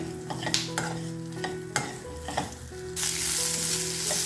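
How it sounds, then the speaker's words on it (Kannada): Onions fry in oil in a pan for sambar, with a steady loud sizzle and scraping stir strokes that grow into a bright, hissing roar partway through. "ಈ ಥರ ಚೆನ್ನಾಗಿ ಫ್ರೈ ಮಾಡ್ಕೊಬೇಕು"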